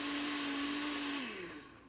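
Countertop blender running with the lid on, blending a mixed fruit smoothie with ice; a steady loud motor whine holds its pitch, then drops as the load shifts and the sound fades near the end.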